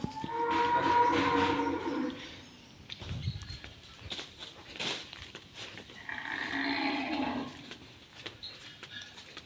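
Newborn calf of a local desi breed on a farm, lowing and mooing in long calls, close and fairly loud, with light shuffling and patter between calls.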